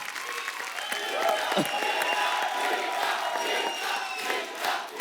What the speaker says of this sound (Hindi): जोरदार तालियां मिका पाजी के लिए।